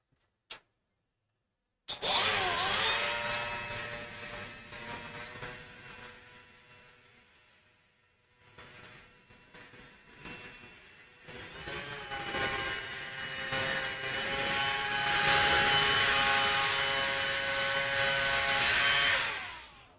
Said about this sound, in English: Grab the blower right quick.